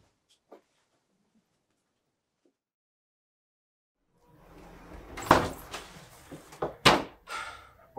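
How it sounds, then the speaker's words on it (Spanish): A house door is unlocked and opened: after near silence with one faint tap, a run of scraping and rattling builds up, then two loud knocking clacks sound close by. "Abre la puerta ya."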